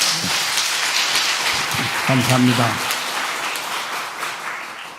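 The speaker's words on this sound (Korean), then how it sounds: "박수로 맞아주시기 바랍니다" A Korean church congregation applauds steadily, a soft rain-like patter of many hands filling the room, while someone speaks briefly over it partway through.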